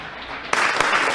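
An audience applauds to welcome a committee at a formal presentation, with steady, dense clapping close by that swells suddenly partway through and holds loud to the end.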